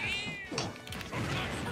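A cat meows in a short, close drawn-out call with a rising wavering tone at the start, then a brief jolt, amid a scuffle as people play-wrestle with it.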